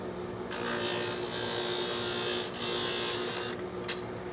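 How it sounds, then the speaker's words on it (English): A cutting machine trims a graphite golf driver shaft, a loud, steady whirring grind that swells and dips in a few passes over several seconds. "Back onto our cutting machine."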